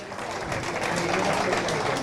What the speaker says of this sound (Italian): Un applauso, in bocca al lupo, buona settimana anche a voi.